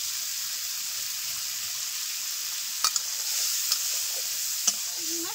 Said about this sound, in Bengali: লালচে করে ভেজে নিয়েছি, চলো তুলে নেওয়া যায়।